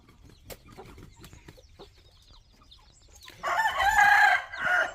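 A heavy breed rooster crows once, loud and close, after a quieter stretch of faint clucks and farmyard sounds.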